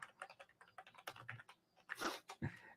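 Keyboard keys tapped in quick irregular bursts at close range, a few heavier strokes near the end, with no talking.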